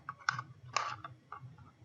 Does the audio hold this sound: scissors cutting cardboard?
yes